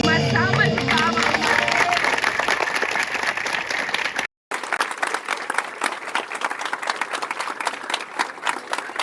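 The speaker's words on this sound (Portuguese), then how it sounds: "Uma salva de palmas." A church congregation breaks into sustained applause at a memorial tribute in Portuguese, dense clapping filling the room, briefly cut off by a short silent gap before resuming just as steadily.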